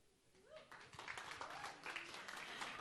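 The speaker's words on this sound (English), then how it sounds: "Let's give him some applause." Applause from an audience at a happiness-day event at the United Nations, a dense patter of clapping that swells in and holds steady, with voices mixed in underneath.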